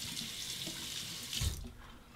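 Tap water runs into a sink while a straight razor is rinsed after shaving stubble, a steady soft hiss with a brief splashing surge in the middle, then quieter flow, close and with no talk.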